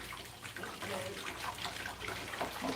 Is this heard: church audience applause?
no